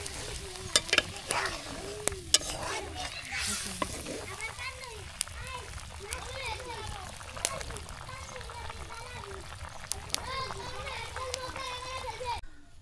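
Pangas fish curry with green banana stirred in a pan over the fire, a soft steady sizzle and scraping under the clatter of the pot, with children's voices and talk over it throughout.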